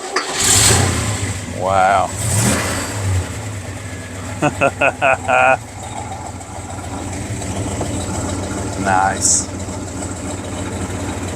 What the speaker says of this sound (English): So I think we need to start this baby up and see what she sounds like.